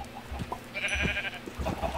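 Sheep in a video game bleat in a few short, close calls mixed with other farm-animal noises over a low background hum.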